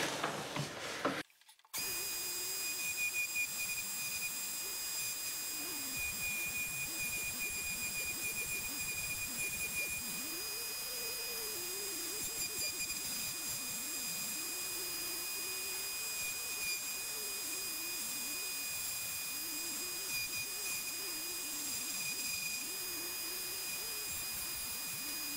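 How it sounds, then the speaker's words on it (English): A rotary tool fitted with a 1/8-inch diamond flame burr carves a tiny wooden owl, giving a steady high whine with a wavering low grinding as the burr bites the wood, running continuously after a brief start. "I am now switched over to a diamond burr, and it is a flame burr, 1/8 of an inch."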